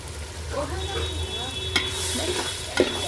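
A spoon stirs dal tadka seasoned with mustard seeds and cumin in a hot pan, with a soft continuous sizzle and two sharp clinks of utensil against metal.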